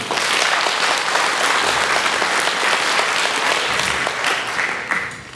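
Loud, sustained applause from an audience at a public movement event, dense rapid clapping holding steady for several seconds before tapering slightly at the end.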